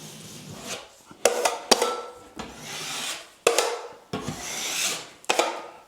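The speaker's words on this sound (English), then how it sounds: "I'm using my 3-inch knife just to embed it into the mud." A 3-inch drywall knife presses paper tape into wet joint compound, giving repeated wet scraping strokes broken by a few sharp clicks and taps of the blade, close and clear with no talking.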